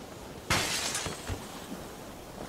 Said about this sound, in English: Who broke that window?